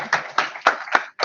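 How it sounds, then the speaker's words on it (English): A few scattered hand claps welcoming a new team member at a school technology meeting, five distinct claps spaced unevenly, close and moderately loud with no talk. "Big round of applause for Jake."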